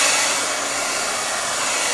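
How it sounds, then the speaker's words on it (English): A blow dryer runs steadily over a wet wool carpet as red wine stains are dried out, giving a loud, close, unbroken whooshing hum with no voices over it. "I'm gonna spend a little time working the blow dryer on it to make sure we don't have any reactions."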